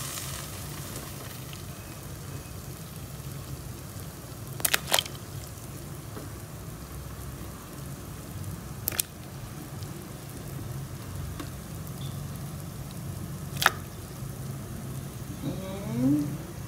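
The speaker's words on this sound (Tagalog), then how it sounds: "kumukulo na ang ating tubig" Water bubbling in a cooking pot before tomato and onion go in for salmon head porridge, a steady soft simmering hiss with a few sharp clinks and a brief rise near the end, with no talking.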